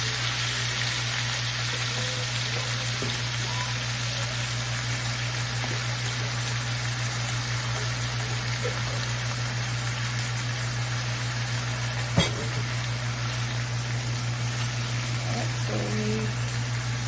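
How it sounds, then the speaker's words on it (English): Boneless pork stir-fried for chow mein sizzles in a hot pan, a steady wash of frying noise with a low hum beneath it and a single sharp clack near the end. "We're cooking up this pork with no bones, of course, because we're doing stir fry."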